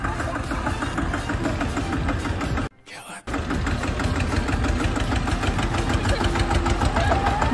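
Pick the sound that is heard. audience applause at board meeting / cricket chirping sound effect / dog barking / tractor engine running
tractor engine running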